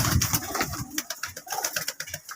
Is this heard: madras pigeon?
yes